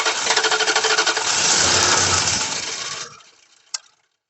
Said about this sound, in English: This thing's cranking.